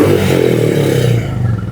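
A Royal Enfield Bullet Classic 350 BS6 engine revs close up, a rough throbbing roar without misfiring that swells and eases as the throttle is worked.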